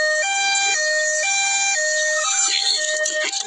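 A two-tone ambulance siren alternates high and low in a steady rhythm, close and loud, with some background noise creeping in toward the end.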